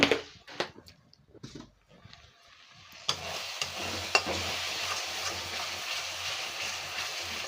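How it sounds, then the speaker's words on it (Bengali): Prawn malaikari masala with a little added sugar is stir-fried in a pan: scattered scrapes and taps at first, then a steady close sizzle under repeated stirring strokes. "যেটা ভালো করে কষে নেব।"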